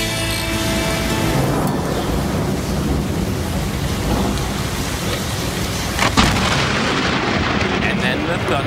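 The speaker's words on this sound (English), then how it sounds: "Lightning strike was pretty good, but the thunder was the impressive part of that one." Loud thunder rolling and booming through a severe storm with steady heavy rain, a sharp crack near the six-second mark, amid flooding and golf-ball-sized hail.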